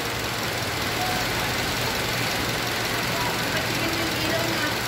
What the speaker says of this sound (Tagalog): Try mo revolution yung makina kung ano.